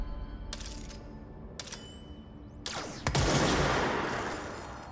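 A new weapon fired in the video game Control, with a few short sharp shots and then a loud sustained burst of gunfire near the end. There is no talking.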